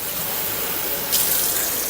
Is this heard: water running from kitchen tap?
yes